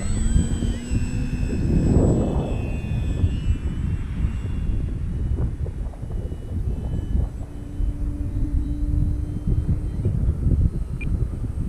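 E-flite Maule RC model airplane taking off without flaps, its electric motor whining steadily near the field with wind buffeting the microphone, no talk.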